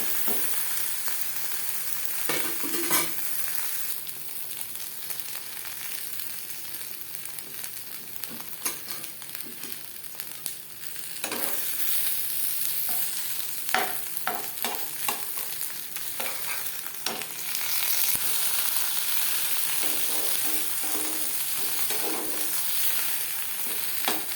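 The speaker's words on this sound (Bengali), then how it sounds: "এক পিঠ ভাজা হয়ে গেছে অপর পিঠ" Jackfruit paturi, a vegetarian dish made without garlic, onion or ginger, frying in a pan, with a steady loud sizzle throughout and intermittent scraping and stirring clatter, no talking.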